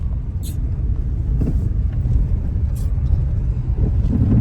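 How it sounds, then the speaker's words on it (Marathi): Steady low engine rumble and road noise heard from inside a car heading to a railway station in Maharashtra, continuous and loud with a few faint high clicks. "तर आता बसलोय गाडीत, तर आता रेल्वे स्टेशनला चाललो आहे आम्ही।"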